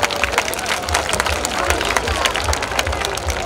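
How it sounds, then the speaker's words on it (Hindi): Loud, dense clapping from an audience at a school annual function as LKG children come onto the stage, a steady crackle of many hands filling the room with voices mixed in. "तो उनका उत्साह बढ़ाते हुए जोरदार तालियां बजा दीजिए"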